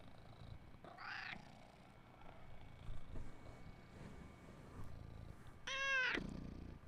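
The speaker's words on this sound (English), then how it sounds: "Purr. Into the mic, please." A house cat, held close to a microphone, makes two short, bright meows several seconds apart, with a quiet, low rumbling purr and faint room noise between them.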